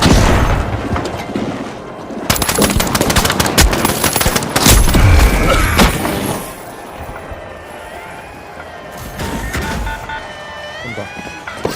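Gunfire and explosions from the video game The Finals: rapid bursts of shots and heavy booms crowd the first half, then thin out into scattered shots and game effects, loud throughout.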